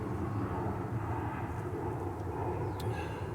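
Alaska Airlines jet flying overhead, a broad continuous roar of engine noise holding steady at moderate distance, with no voices.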